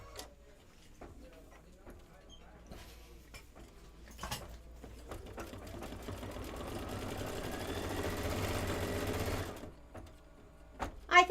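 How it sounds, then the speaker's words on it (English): Kimberbell embroidery machine stitching out a climber design, a steady mechanical whir with rapid needle clatter that builds from about four seconds and holds, with a few clicks and knocks around it. "This is going to stitch out the climber."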